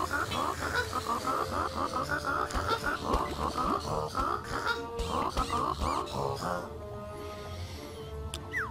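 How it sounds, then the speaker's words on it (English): Cartoonish video-game duck quacking from inside a water cooler, a dense run of nasal quacks and squawks over a busy game soundtrack, loud and continuous, thinning out near the end. "Why is there a duck inside a water cooler?"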